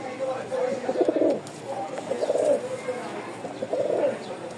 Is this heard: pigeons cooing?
yes